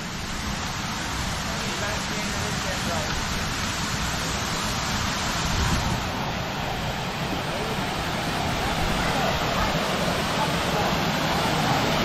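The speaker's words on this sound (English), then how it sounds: "Because it has a waterfall." A waterfall splashes into a hotel swimming pool at the Grand Hyatt Baha Mar, a loud, constant broadband rush filling the whole clip from close by.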